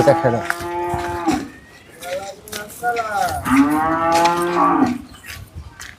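A heifer moos twice nearby, two long, loud, deep calls separated by a short pause, with no talking.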